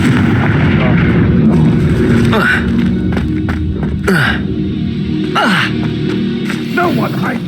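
Confringo blasting spell cast repeatedly in Hogwarts Legacy, with explosive fiery bursts and whooshes over game combat noise and a voice speaking.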